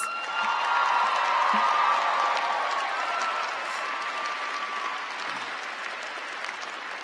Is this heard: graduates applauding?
yes